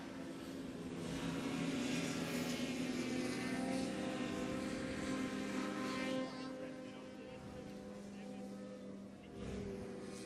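Racing powerboats roar past at a hydroplane race meeting, two two-stroke craft and a big four-stroke, their engines a loud, sustained drone with shifting pitch blending as the boats pass.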